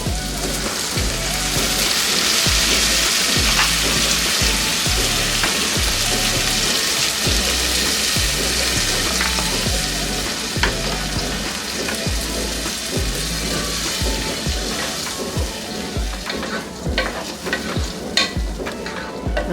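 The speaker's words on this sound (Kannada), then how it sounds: "ಇದೇ ರೀತಿ ಎಣ್ಣೆಯಲ್ಲಿ ಫ್ರೈ ಮಾಡ್ಕೊಳ್ಳೋಣ." Spices for chole masala fry in hot oil in a pan with a steady close sizzle, broken by repeated scraping stirs that go on throughout.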